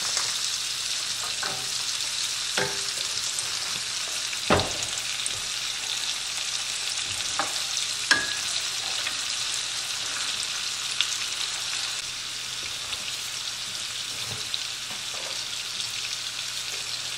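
Onions sizzling in a pan with sausage and melted butter, a steady close frying hiss throughout with occasional sharp pops and light stirring knocks.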